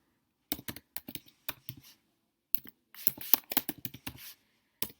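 Clicks from typing on a computer keyboard come in short irregular bursts of keystrokes, close and fairly quiet, with pauses between groups.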